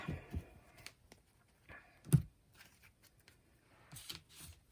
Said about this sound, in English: I like to shuffle a little bit more on camera